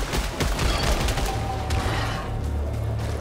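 Enemies fire projectiles in Returnal, a dense, loud barrage of rapid bursts and booms packed close together, running continuously for a few seconds.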